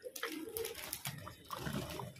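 Pet female pigeon cooing softly up close, low throaty burbles repeating over faint trickling water.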